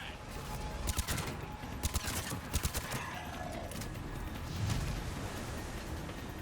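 Cover fire in the Mass Effect 3 Legendary Edition on PS5: several sharp bursts of gunfire crack out in quick clusters over a busy rumble of battle, then ease back into a steady background roar.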